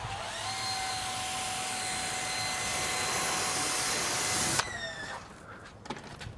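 An EGO battery pressure washer with a swapped nozzle sprays down a truck, giving a loud steady hiss with a motor whine for about four and a half seconds before cutting off, leaving quieter handling noises.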